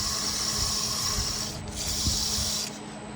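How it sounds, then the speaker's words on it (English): Abrasive paper rubs against a spinning walnut goblet on a wood lathe, a close, steady rasping hiss broken by two brief pauses. No voices. "rely on sanding now to help those shapes out a little bit"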